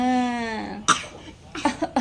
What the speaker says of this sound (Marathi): थोडासा खोकला पण आहे.